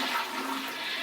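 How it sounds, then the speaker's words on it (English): A toilet flushing close by, a brief loud rush of swirling water filling the whole moment on its own. "of course the toilet's loud too"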